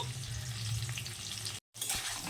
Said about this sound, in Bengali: নুন হলুদ দিয়ে আলু খুব ভালো করে নাড়তে থাকবো আলু ভাজা